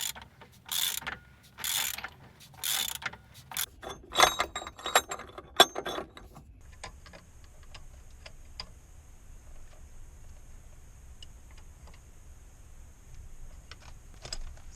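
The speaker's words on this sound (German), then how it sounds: "Und jetzt geht es darum, hier die Schrauben festzuziehen, die Hauptschrauben des Motors." A ratchet clicks in several close bursts while tightening the main bolts on a Perkins Prima M50 marine engine, followed by fainter sparse ticks and a low steady background hum.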